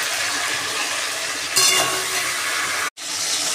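Chicken pieces fry in hot oil with turmeric and salt while being stirred, giving a loud, steady close-up sizzle, a brief scraping stir partway through and a momentary cut-out near the end.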